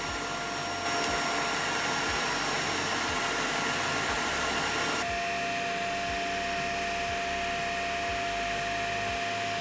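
A Shark Navigator Zero-M Self-Cleaning Pet Pro upright vacuum runs continuously, a loud close whine and broadband rush that shifts to a slightly different tone partway through, with a repeating low thump beneath.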